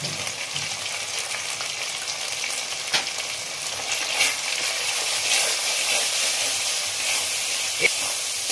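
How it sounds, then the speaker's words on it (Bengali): Turmeric added to a prawn curry frying in a pan, a steady close sizzle and hiss that continues throughout, with occasional light stirring clicks. "এরপরে আমি হলুদ দিয়ে দিচ্ছি পরিমাণ মতো তরকারিতে।"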